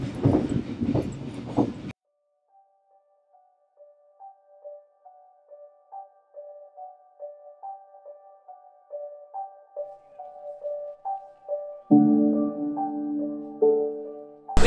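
An overnight train from Hanoi to Hue, Vietnam rolls along in rhythmic clicks and clacks, with tonal wheel hum building toward a louder rumble near the end; no voices.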